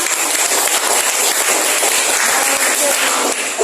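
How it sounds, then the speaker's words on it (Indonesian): Loud, close applause from a classroom group clapping for a presenting group, a dense burst sustained for a few seconds. "Tepuk tangan untuk kelompok 5."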